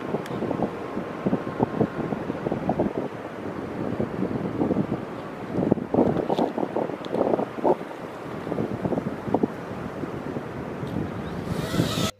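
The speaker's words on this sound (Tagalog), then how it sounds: "Medyo malakas-lakas yung hangin" Strong wind buffets the microphone in loud, uneven gusts, with rushing air and rumbling bursts throughout.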